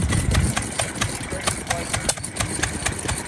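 Antique engines run at a steam show in Halltown, Missouri, a steady close idle of rhythmic mechanical knocking with a low throb and metallic ticks, with voices faintly in the background.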